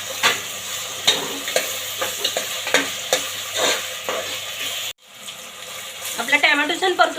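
Finely chopped tomato frying with onions in a pan for masoor dal pulao, a bright sizzle with rhythmic stirring scrapes, then a cut to quieter sizzling under a brief voice.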